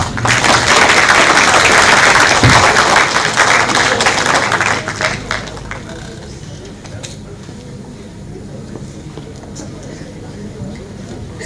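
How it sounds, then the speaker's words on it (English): An audience applauds students at a seminar on palm oil, health and nutrition. The clapping is loud and dense for the first five seconds, then thins out to scattered claps under room noise. "A big round of applause for our talented students"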